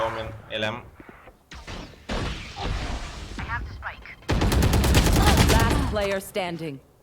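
Gunfire from the Valorant video game crackles in loud bursts, with a sustained stretch of rapid shots near the end, mixed with game effects and a voice talking over the action.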